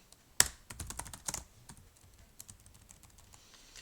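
Fingers typing on a computer keyboard in a cold room, quick bursts of key clicks in the first second and a half, then sparser, quieter taps continuing alone.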